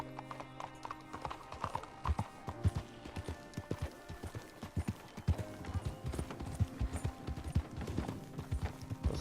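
An old horse with a bad, drooping leg plods along in Red Dead Redemption 2, its hooves clip-clopping in a steady rhythm close by, with musical tones and a brief whinny-like sound over the footfalls.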